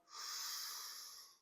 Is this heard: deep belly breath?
yes